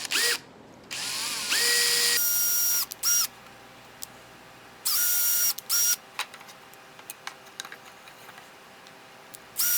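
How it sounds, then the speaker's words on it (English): A handheld power drill boring pilot holes into a melamine board for a resin mold, with several short high whining bursts separated by pauses and small clicks, loud and close, no talking. "I'm using a drill and a bit to make some pilot holes for the mold."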